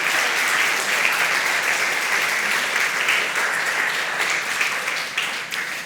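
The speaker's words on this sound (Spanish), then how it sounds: "le damos un aplauso" Steady crowd applause from a church congregation, dense continuous clapping at close-to-moderate distance that holds for several seconds without talk.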